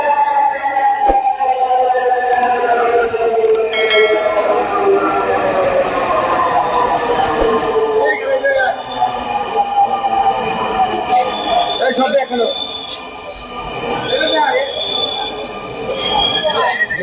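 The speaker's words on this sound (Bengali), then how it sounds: "আমরা মেট্রোতে উঠতে পেরেছি। এখানে লোকজন ভরে গেছে, মেট্রো ছেড়ে দিয়েছে।" A Dhaka metro rail train pulls out of a station with a rising electric motor whine and wheel hum inside a crowded carriage. Passengers talk over the steady loud rumble.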